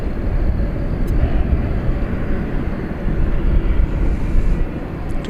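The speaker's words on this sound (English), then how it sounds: "I think this is the flight to Brisbane, flight 7. It's a -9 Dreamliner." A Boeing 787-9 Dreamliner on flight 7 to Brisbane roars steadily at Dallas Fort Worth airport at night, a loud continuous broadband jet rumble that holds throughout without any voices.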